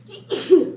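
A single short, sharp human sneeze in a classroom during a math lesson, close and fairly loud, over a quiet room.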